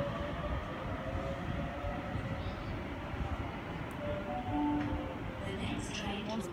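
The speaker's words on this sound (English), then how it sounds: "Central via Macquarie Park service now departing." A Sydney Waratah electric train departs Hornsby station, a steady loud rumble of rolling wheels and motors filling the platform throughout, with brief faint tones riding over the noise.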